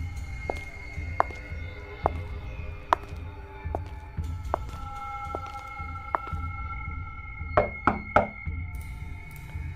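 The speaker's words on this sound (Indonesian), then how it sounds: "Kemudian disusul dengan ketukan pintu." Someone raps on a house door, sharp knocks spaced out over a low hum and then three quick knocks in a row near the end.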